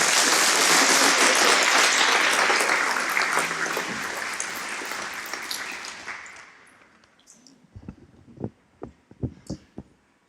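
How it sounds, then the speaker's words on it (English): Loud, dense applause from an audience at a community drug awareness night, a full roar of clapping that gradually dies away, leaving a few scattered, isolated claps and thuds near the end. "Please give them a round of applause."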